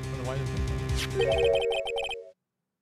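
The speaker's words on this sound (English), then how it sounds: "don't know it's your own phone ringing" A phone ringtone from the video game Phoenix Wright: Ace Attorney, a jangly electronic ring that chirps in rapid repeated bursts over game music before cutting off abruptly to silence.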